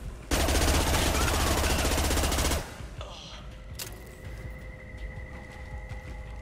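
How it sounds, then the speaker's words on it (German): A rifle in Mass Effect Legendary Edition fires one sustained, loud, close automatic burst lasting about two seconds, then cuts off abruptly. Quieter ambient game sounds and faint electronic tones follow. "Ich liebe dieses Gewehr"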